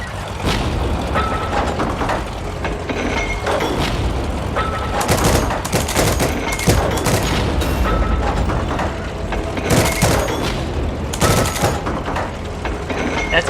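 Gunfire in the Heroes & Generals tank game crackles in repeated sharp bursts over a continuous rumble of engines and battle noise, loud and close.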